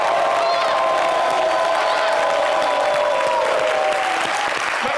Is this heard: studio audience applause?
yes